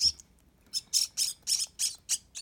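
A pet bird chirps in a steady series of about seven sharp, bright calls at a close distance, evenly spaced and loud against a quiet room, with no voices.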